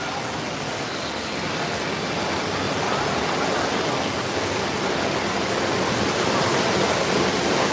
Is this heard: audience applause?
no